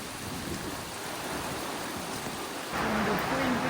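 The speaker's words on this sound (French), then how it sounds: "Ça ne s'arrête pas et la pluie est violente quand même." Heavy rain pounds steadily on a tent during a mountain trek in the Balkans, a dense close hiss that grows louder and fuller partway through, with no talking over it.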